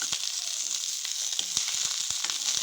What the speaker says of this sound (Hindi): रोस्ट करने लगे हैं गोभी को